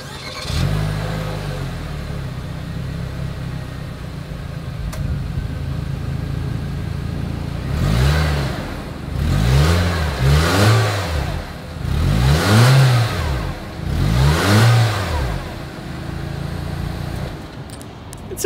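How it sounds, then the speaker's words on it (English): A 2020 Nissan Kicks with a single exhaust starts, idles, then is revved in several rising and falling bursts, each swell loud and close to the tailpipe, with quieter idle between. "As always, here is that exhaust clip."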